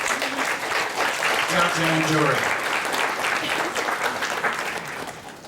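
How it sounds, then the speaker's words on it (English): Audience applause fills an awards ceremony, a steady wash of clapping throughout while a voice speaks briefly over it partway through. "I would like a big round of applause for Nuri"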